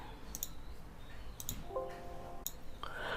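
Computer mouse clicks sound as sharp, faint, isolated taps, about three spaced roughly a second apart, over quiet room noise with a brief soft tone between them.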